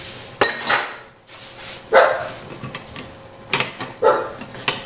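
Deviled egg yolks being mashed and pressed with a rubber spatula in a bowl: a few distinct scraping knocks spaced about a second apart, close and moderately loud, with no talking.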